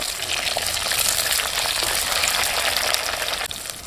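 Green chilies and kudampuli hit hot oil in a frying pan, producing a loud, continuous crackling sizzle that stays dense and even throughout.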